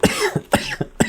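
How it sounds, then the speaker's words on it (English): A short run of about four sharp, close coughs in quick succession, loud and clear with no talking over them. "I just coughed."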